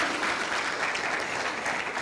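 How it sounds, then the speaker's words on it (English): Steady applause from a crowd fills the whole stretch, dense and even, with no voices rising above the clapping. "Please clap for me."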